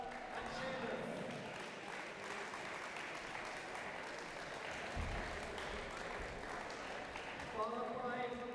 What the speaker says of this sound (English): let's give a big round of applause first to our umpires, Guy and Seamus